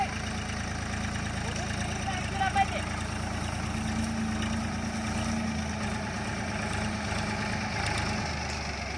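A tractor engine runs at a steady idle throughout, close by during farm work sowing wheat, with people talking over it.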